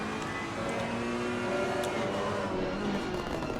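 Race car engines, including an Aston Martin GT car, drone continuously in a racing video game at the Barcelona circuit, a steady loud mechanical roar with slight pitch shifts as the cars run.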